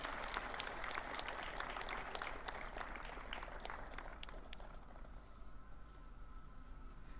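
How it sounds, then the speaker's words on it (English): An audience at an inauguration ceremony for a start-up and innovation cell applauds steadily, dense clapping that holds for several seconds and then thins out into a softer room murmur. "Give them a huge round of applause."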